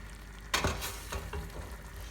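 Beef stroganoff sauce being stirred in a pan, a sudden scrape at the start followed by soft, uneven stirring and faint sizzling close by.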